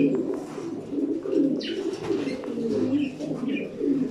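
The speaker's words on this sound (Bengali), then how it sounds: "অনেক সুন্দর একটা কবুতর" A black male pigeon coos continuously, low and throaty, in rolling repeated phrases close by in a loft, with a few faint chirps behind.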